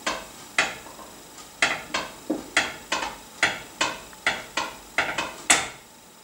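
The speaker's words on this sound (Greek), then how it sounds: "Λοιπόν, τα ανακατεύουμε λίγο να πιάσουν παντού." A spoon scrapes and clinks against a pot about a dozen times in a steady rhythm as soy mince seasoned with allspice is stirred, close and fairly loud, with no talking.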